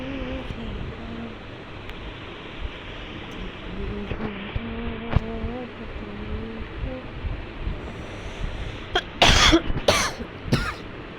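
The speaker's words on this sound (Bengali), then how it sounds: "সরি কাশি চলে আসলো" A person coughs several times in a loud, close burst near the end, after a stretch of quieter background hum and a faint melodic tone.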